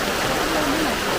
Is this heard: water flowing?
yes